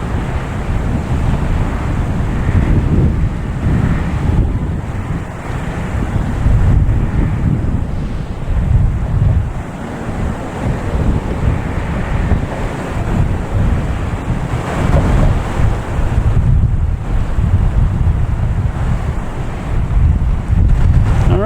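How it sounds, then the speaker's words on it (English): Strong wind gusting across an open airfield at Boston Logan Airport, roaring and buffeting close into the microphone in loud, uneven surges that swell and ease without a break, with no talk. "the wind's really picking up all of a sudden"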